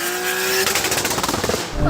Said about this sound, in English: Oh, and the rev limiter!